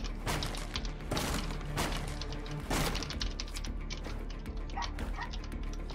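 A dog barks outside in the distance, a few faint bow-wow bursts over a steady background of game sound and noise.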